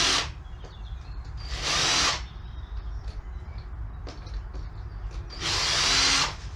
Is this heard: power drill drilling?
yes